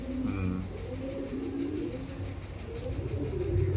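Pigeons coo close by in soft, repeated throaty phrases over a low background rumble, no talking.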